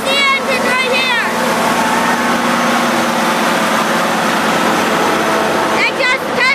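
A locomotive engine rumbling close by in a steady, heavy roar, with high squeals at the start and end and people talking over it.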